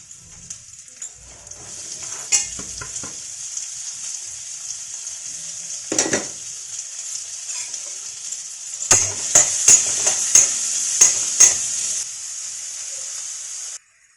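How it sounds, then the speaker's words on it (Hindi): Cumin, ginger, green chili and onion hit hot oil for a soya chunk curry, setting off a loud, steady hissing sizzle broken by sharp clinks and scrapes of a spoon against the pan until the sizzle abruptly stops. "अब हम इसमें थोड़ा सा ये जीरा डालेंगे, ये अदरक है, ये हरी मिर्च और ये प्याज सब डाल देंगे इसमें"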